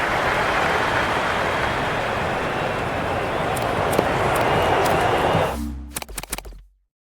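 A dense cricket crowd roar from the video game Cricket 26 rises in a continuous wash, then cuts off abruptly, leaving a few short clicks and thuds before silence.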